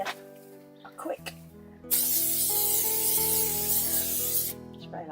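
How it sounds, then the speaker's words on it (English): A long hiss of Craft Mount permanent adhesive spray glue runs for a few seconds, loud and close, over a background of soft instrumental music. "I'm using a Craft Mount permanent adhesive spray glue"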